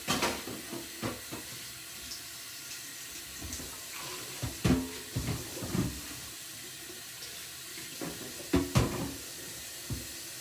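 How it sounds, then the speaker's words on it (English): Tap water runs intermittently in a kitchen sink as a dish is rinsed, with splashing bursts and clatter rising and falling over a steady low hiss, close by and moderately quiet. "So go ahead and wash that out."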